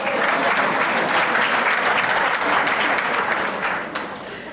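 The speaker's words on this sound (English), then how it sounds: "Let's clap hands for my wife." Mourners at a funeral clap their hands together in a loud, dense, steady round of applause that carries on throughout before easing slightly toward the end.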